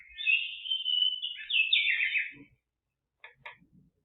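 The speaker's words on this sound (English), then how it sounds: "So I'll just set this back to my lovely bird sounds." A recorded bird song alarm sound plays through a small speaker: a bright trilling chirp lasting a couple of seconds, then two short tweets after a pause.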